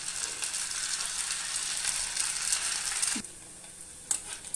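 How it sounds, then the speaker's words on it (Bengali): Chhana (cottage cheese) balls frying in ghee in a pan, a steady close sizzle that drops off after a few seconds, followed by a brief clink and a renewed burst of frying. "আমি ছানার বলগুলো ছেড়ে দেবো আস্তে আস্তে।"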